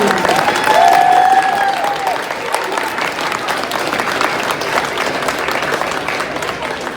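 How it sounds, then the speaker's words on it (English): A school assembly audience of students applauds for a guest, Jeremy Anderson; dense, sustained clapping fills the room from start to finish, with a brief whistle-like tone early on and a steady, loud wash of hands throughout. "let's give a big bulldog round of applause to Jeremy Anderson"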